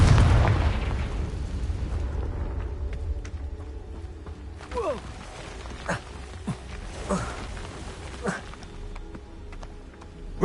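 A Confringo blasting curse in Hogwarts Legacy goes off as a loud burst at the start, then fades into a low rumble with scattered crackles and small pops as the debris settles.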